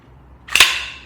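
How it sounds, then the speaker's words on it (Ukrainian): A single sharp, ringing crack of a shot from a Zbroyar Z15 AR rifle with a Fostech Echo AR II trigger in semi-auto, loud and close, with a brief metallic tail fading out in quiet surroundings. "Слухайте дзвонкий звук вистріла."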